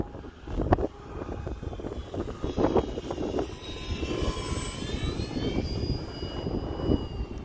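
An Arrows RC F4U-4 Corsair model airplane with lights flies outdoors on a windy day. Its motor buzzes steadily and swells and fades as it passes, over a constant bed of wind rumble.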